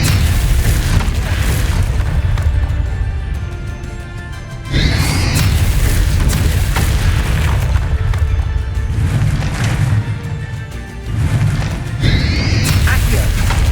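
Bombarda spell blasts in the video game Hogwarts Legacy, heavy booming explosions that burst out in sharp repeated impacts over a rumbling battle soundscape with crackling debris.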